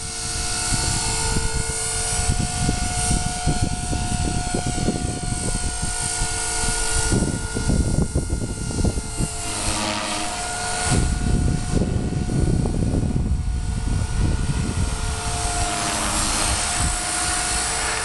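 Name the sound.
radio-controlled helicopter flying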